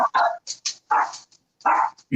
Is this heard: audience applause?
no